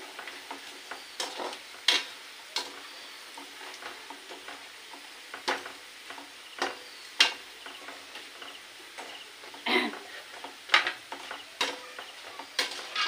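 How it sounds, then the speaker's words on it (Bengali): Vegetables fry in hot oil with a steady soft sizzle, broken by sharp scattered clicks and scrapes of a utensil stirring in the pan, with no one talking. "এটাও আমার ভাজা হয়ে যাচ্ছে"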